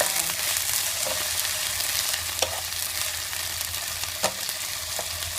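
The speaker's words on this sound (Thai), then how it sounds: "แหม่มก็จะผัดนี่นะคะเผือกแครอทแล้วก็ เห็ดหอม เผือกแครอทเห็ดหอมนะคะผัดไป" Taro, carrot and shiitake mushrooms sizzle steadily as they are stir-fried for vegetarian taro rice, with a few light utensil scrapes against the pan above the continuous frying hiss.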